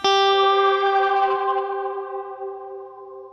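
One sustained electric guitar note rings out through heavy reverb from a Strymon Nightsky pedal, pitch-shifted up a fourth, its bright shimmering overtones hanging and fading slowly.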